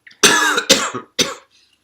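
A person coughs three times in quick succession, close and loud, with a faint throat sound before and after.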